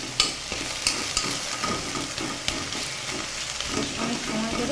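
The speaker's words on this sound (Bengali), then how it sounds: "অনেক সময় ধরে নেড়ে চেড়ে ভেজে নেব" Jute greens (pat shak) stir-fried in oil: a continuous close sizzle is broken by the scrape and clack of a spatula turning the leaves in the pan, with no talking.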